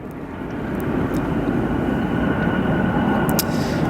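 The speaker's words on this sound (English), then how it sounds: "United Airlines Boeing 757-224 arriving from Denver International Airport." A United Airlines Boeing 757-224 arriving at O'Hare airport, with a loud, steady jet engine roar that builds slightly and then holds as the plane passes nearby, and no talking.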